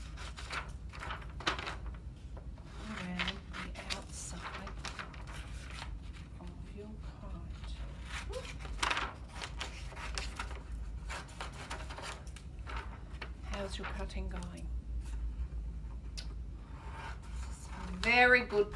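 Scissors cut around the outline of a paper butterfly kite, making repeated close, crisp snips and rustles of paper in an irregular rhythm, with a voice talking quietly in between.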